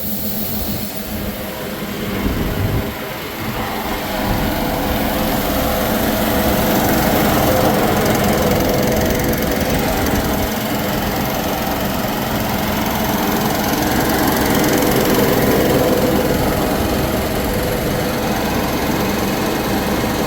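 A farm tractor runs in reverse while picking up lentils in a field, giving a loud, steady engine drone with a broad rushing hiss that holds for about twenty seconds with no voices.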